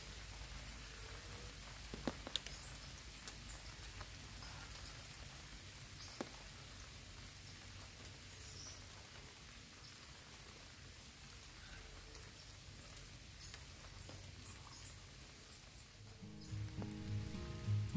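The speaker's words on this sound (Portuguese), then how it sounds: "Esse barulho de chuva no toldo aí, ó." Steady rain patters on an awning beside a river in a natural setting, a constant soft hiss with scattered drips, fairly faint and even, ending in a few louder low knocks and rustles.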